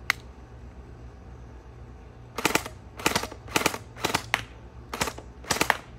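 A Spatrball SRB 400 toy gel blaster fires six quick bursts of sharp, rattling shots after a quiet stretch, each burst a close, loud string of rapid clicks separated by short pauses.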